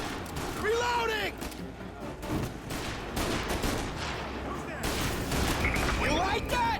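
Gunfire in a video game crime shootout, a ragged burst of shots cracking over engine noise, whistling ricochets and overlapping shouting voices.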